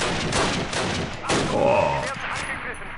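Bursts of MG42 machine gun fire in Call of Duty, loud and close, with rapid broadband crackle running through the whole moment and someone talking over it.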